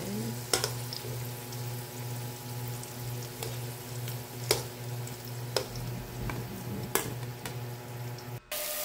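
Fish frying in oil in a pan, with a steady low hum of the burner and scattered sharp crackles and pops from the hot oil, close and moderately loud.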